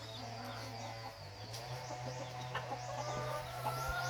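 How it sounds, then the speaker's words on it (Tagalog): Chickens cluck and squawk in a farmyard, several birds calling in short irregular bursts over a steady low hum, fairly faint and at a moderate distance. "Dami mong manok kay Marlon."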